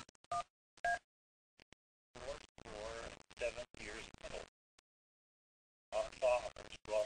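Short bursts of keypad dialing tones for an IP phone call, a few quick presses, then a pause, then another cluster of tones, with a voice speaking in between.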